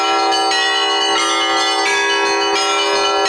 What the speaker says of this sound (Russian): Благостные звуки из колокольни завораживают